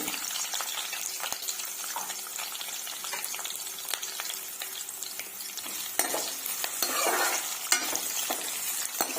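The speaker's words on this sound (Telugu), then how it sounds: "ఒక ఆనియన్, మీడియం సైజ్ ఆనియన్ ఇలా కట్ చేసి పెట్టి వేసుకుంటున్నాను" A medium chopped onion frying in oil in a pan, steady close sizzling with stirring scrapes and a brief louder burst of spitting toward the end, no talk.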